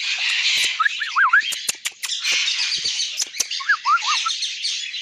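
Plum-headed parakeets at a zoo give repeated shrill, looping chirps from the trees in a few short bursts, set against a loud, steady hiss of insects or background chatter.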